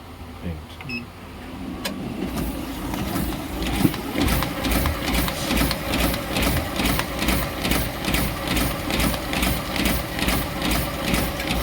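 A Ricoh DX-2430 mini printing press runs a print job with a rapid, regular mechanical clatter over a low motor hum, close and loud, starting up after a few seconds with a voice briefly heard early on.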